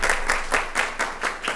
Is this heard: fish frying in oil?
no